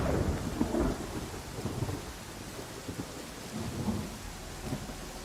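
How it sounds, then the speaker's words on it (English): Rolling thunder rumbles low over steady rain during a storm in Pathfinder: Kingmaker, a continuous rain hiss with soft swells of distant thunder and no talking. "Now let's get out of this blasted storm."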